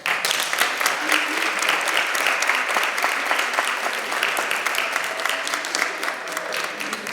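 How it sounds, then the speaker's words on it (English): Audience applause at a STEM careers event welcoming a foundation's co-founder and CEO to the stage: steady, dense clapping from a sizable crowd, loud and continuous throughout. "Just give a round of applause for me."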